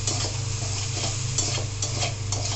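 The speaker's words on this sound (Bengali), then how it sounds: "অল্প আঁচে ভাজবেন যাতে পুড়ে না যায়।" Shrimp frying in a pan over low heat, with a steady close sizzle and occasional stirring scrapes in the pan throughout.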